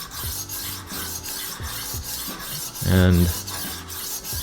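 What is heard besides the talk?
rolling knife sharpener diamond plated disc sharpening knife edge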